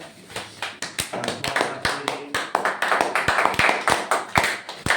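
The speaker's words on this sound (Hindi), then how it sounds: "वेरी गुड, ताली बजाई जाए।" Students in a maths class clapping hands, a lively run of sharp, closely spaced claps from a group in a small room, growing denser toward the end, with a little voice underneath.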